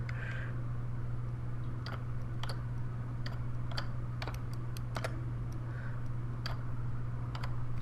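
Crisp computer clicks come in an irregular run of single taps and quick pairs during click-and-drag retopology work in 3D software, over a steady electrical hum.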